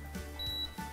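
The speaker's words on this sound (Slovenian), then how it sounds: "V bistvu tole piskanje naj upozarja, da je to to." A kitchen appliance signals that carrots are cooked, with a thin high electronic beep tone sounding briefly over faint room noise.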